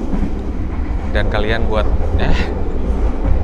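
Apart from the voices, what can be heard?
Kahuripan passenger train riding on rails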